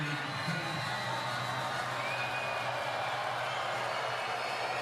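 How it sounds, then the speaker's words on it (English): A crowd at a FIBA EuroBasket 2025 qualifier between the Netherlands and Great Britain jeers and shouts through a free throw. The dense, roaring wall of voices carries on for the whole stretch without easing. "Crowd doing their best to put him off."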